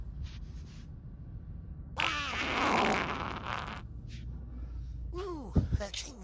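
A deliberate fart comes as a burst of noisy sound in the middle of the clip, loud and close. Voice-like sounds and background talk come before and after it.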